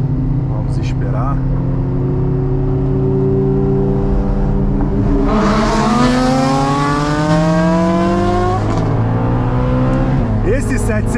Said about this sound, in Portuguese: Esse 718 GT4 tá fazendo um barulho fenomenal.